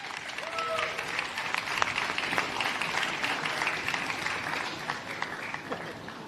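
A crowd at a pipeline groundbreaking ceremony in New York applauds to welcome guests, steady sustained clapping from many hands at moderate distance, with some voices mixed in.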